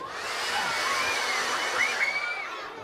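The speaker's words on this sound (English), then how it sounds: "And I have just the thing, my hair dryer." A hair dryer blows steadily with a whooshing, airy roar and a faint whine rising in pitch, close and continuous.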